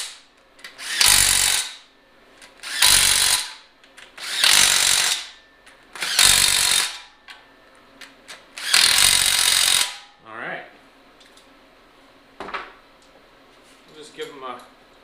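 Battery impact gun running down the bolts on an oil pan for a junkyard-rebuilt 5.3 LS engine, in five loud, evenly spaced bursts of about a second each, followed by quieter clicks and handling noises.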